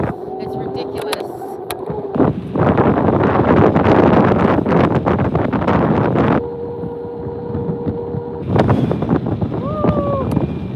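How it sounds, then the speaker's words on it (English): Strong wind buffets the microphone during a bike ride in a bike lane, coming in loud roaring gusts that swell and drop away, with a short voice heard between the blasts. "It is windy."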